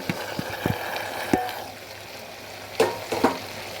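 Fried potatoes go into mutton inside a pressure cooker, bringing close clatter and sizzling. A few sharp knocks and stirring scrapes sit over a low fizzing, with no speech.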